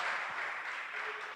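Church congregation applauding during a service, a brief dense burst of many hands clapping together, fairly distant and steady, tapering slightly at the end.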